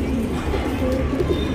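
Breeding pigeon cooing close by, low soft repeated coos in a short steady burst, alone with no talk.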